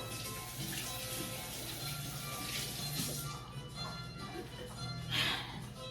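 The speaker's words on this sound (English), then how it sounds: "Let me wash my hands really quick." Tap water runs steadily into a kitchen sink while hands are washed during pasteles preparation, a continuous close hiss with a brief louder splash near the end.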